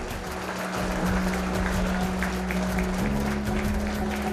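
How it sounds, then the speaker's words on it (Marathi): Loud, steady applause from an audience at a school annual prize distribution ceremony, continuous throughout with a sustained low hum beneath. "ओमकारसाठी एकदा जोरदार टाळ्या झाल्या पाहिजेत"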